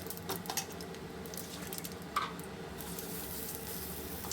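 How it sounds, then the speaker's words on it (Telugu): Hot tempering poured straight into a radish and peanut chutney, a soft sizzle with a few light clinks of a pan and spoon, faint and close, with a brief sharp tick partway through. "స్టవ్ ఆఫ్ చేసిన తర్వాత ఈ పోపుని ఇలా డైరెక్ట్గా ఈ పచ్చడిలో వేసేసుకుందాము"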